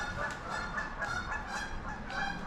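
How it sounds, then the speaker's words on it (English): A flock of geese honks repeatedly while flying over an abandoned hospital and church in the middle of a city, the calls overlapping in a steady, fairly close chorus with no talking. "There are lots of geese flying around."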